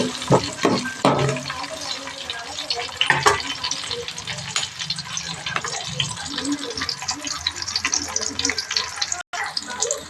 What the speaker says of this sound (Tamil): பச்சை மிளகாய் கொஞ்சம் போட்டுக்குவோம் கொஞ்சம் கிளறி கொடுத்துக்குவோம்